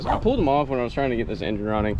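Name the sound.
dogs barking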